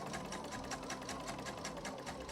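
A domestic sewing machine runs steadily, stitching black-threaded upholstery trim with a fast, even mechanical whir that stays close and loud with no pause.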